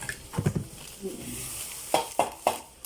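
Stirring a mixture while cooking at home, with a few soft scraping strokes followed by three sharper knocks of a utensil against the pot over a low background sizzle, close up and fairly quiet.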